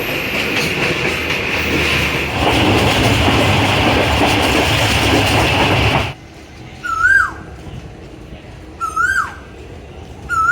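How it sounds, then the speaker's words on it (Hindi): The 44 Down Southern Express passenger train runs with a loud, steady rumble and rattle for about six seconds, then cuts to a quieter scene with repeated bird-like calls and chirps. "this is 44 down Southern Express."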